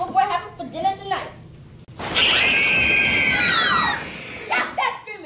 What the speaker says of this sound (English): Stop that screaming!